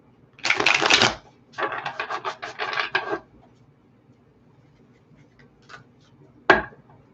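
Tarot cards are shuffled in two bursts of crisp riffling, followed by quiet and a single sharp tap of the deck near the end.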